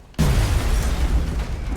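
Frag grenade explosion in the video game XCOM Long War: a sudden loud boom with deep rumbling that stays heavy and sustained to the end.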